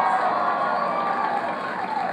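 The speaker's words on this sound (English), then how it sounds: "all those people screaming just now" A studio audience screams and cheers for Nathan Fillion on a late-night talk show, a steady, loud roar of many voices holding through the whole moment.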